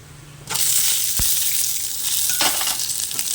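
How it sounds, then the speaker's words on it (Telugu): Small tomato pieces drop into a hot pan, and a quiet background gives way to a sudden loud, close sizzle that holds steady, with a sharp clink early on and a brief scrape later. "మనము టమాటా ముక్కలు ఎన్ని రెండే అండి చిన్నవి అవి వేసుకోవాలి"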